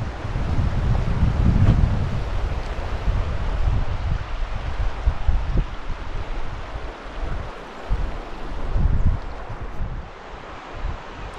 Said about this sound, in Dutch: nu woon ik aan een rivier.